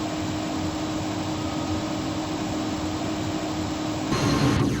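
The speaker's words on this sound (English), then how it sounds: "I did turn the engine sounds down on the plane some more." Aircraft engine in Flight Simulator X while flying through Hurricane Irma, a steady broadband roar and drone that holds constant with a slight shift near the end, with no talk.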